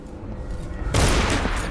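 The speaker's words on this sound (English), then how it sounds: "Gunshot?" Sudden burst of gunfire in the stealth video game Dishonored 2, a dense loud crackling volley erupting after a quieter ambient stretch and continuing to the end.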